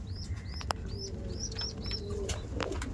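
Young malwai pigeon chicks and adult pigeons at a breeding loft give soft repeated cooing and short chirping calls, close and fairly faint over a steady low background hum, with a single sharp flap or knock partway through.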